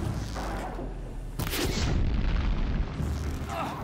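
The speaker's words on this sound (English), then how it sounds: "we got explosions and fire, headshots" Explosions from the video game Horizon Zero Dawn burst out as a sudden loud boom partway through, followed by rumbling fiery aftermath over a dense background of game noise.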